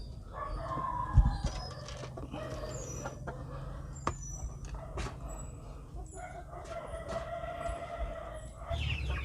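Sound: pullets (young hens) clucking while being fed wet feed

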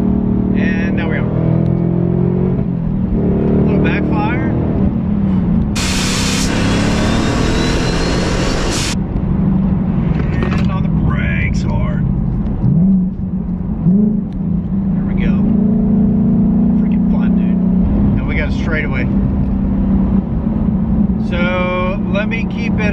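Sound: supercharged 2021 Ford Mustang Mach 1 engine at wide-open throttle

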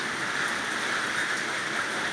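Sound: rain falling

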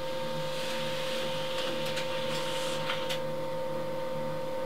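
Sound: HP LaserJet printer printing a document

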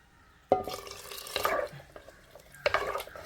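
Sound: pouring water into a pot

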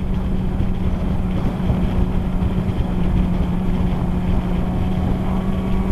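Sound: Yamaha R6 sport motorcycle engine

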